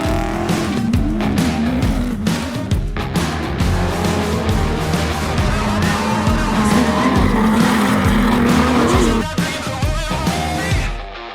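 A trophy truck racing on a short course track, its engine roaring loud and close with shifting pitch, tires squealing and skidding through the run.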